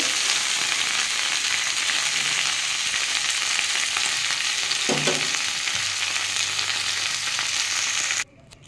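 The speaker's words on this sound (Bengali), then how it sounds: "আমার বকলিটা ভাজা হয়ে গেছে।" Broccoli fries in hot oil in a pan with a loud, steady sizzle throughout, broken by a brief clink of a utensil midway before the sound cuts off abruptly near the end.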